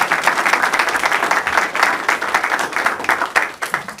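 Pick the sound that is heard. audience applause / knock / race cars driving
audience applause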